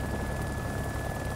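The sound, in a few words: helicopter flying in the video game DayZ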